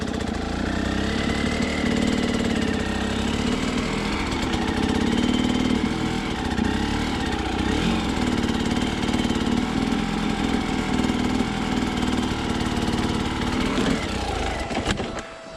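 A dirt bike engine runs continuously during enduro balance training, holding a loud, rough idle with small revving swells throughout and dropping off sharply at the very end.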